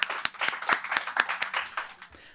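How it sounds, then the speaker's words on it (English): An audience at a startup pitch event gives a short round of applause for a presenter, a sparse run of distinct, fairly quiet claps that thins out and stops. "Big round of applause for"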